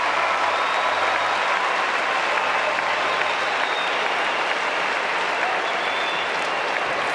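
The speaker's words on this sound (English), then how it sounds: "Brilliant point. Gets the cheers and applause." A tennis crowd at a United Cup match applauds and cheers after a point. The clapping is dense, sustained and loud for the whole span, with no pause.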